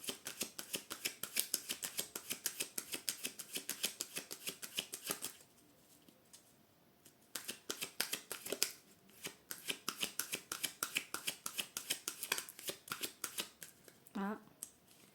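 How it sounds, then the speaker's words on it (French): A deck of tarot cards is shuffled by hand in quick, rhythmic riffles, close but soft, with a short pause in the middle before the shuffling resumes; someone speaks in French over part of it. "Je vais essayer de ne pas battre les cartes trop près du micro."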